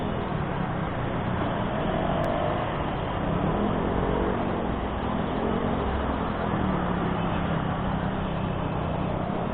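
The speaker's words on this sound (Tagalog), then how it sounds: "At tulad nito, ganito ka traffic." Steady roar of heavy traffic on Quezon Avenue, a dense wash of car and bus engines that stays constant and fairly loud throughout with no individual vehicle standing out.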